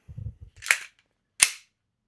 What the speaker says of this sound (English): actually we can just do a dry fire